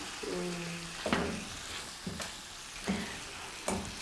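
Meat frying in oil with spices in a pan, a soft steady sizzle broken by several stirring scrapes spaced about a second apart, quiet and close with no voices.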